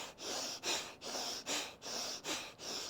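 Deep rhythmic breathing during a Himalayan kriya yoga exercise, about six quick forceful breath cycles in three seconds, each a close, airy rush with short dips between.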